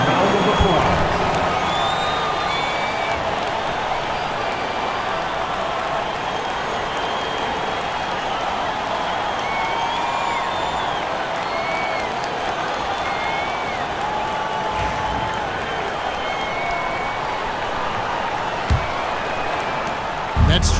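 Steady arena crowd noise with applause and cheering fills a basketball video game between the Indiana Pacers and Brooklyn Nets, a continuous dense roar with a few sharp thumps near the end.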